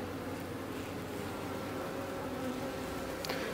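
Honey bees cluster around a caged new queen, their dense, steady buzzing droning close and continuous with no talk.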